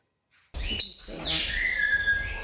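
A pet budgie gives bright, high chirps and whistled calls close by, one long sliding note running over a steady background hiss.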